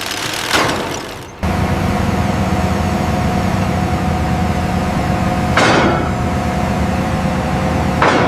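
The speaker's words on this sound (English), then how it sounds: "A pile driver begins hammering the first support column" A pile driver hammers a bridge support column, with two loud sharp impacts several seconds apart over a continuous heavy machinery drone.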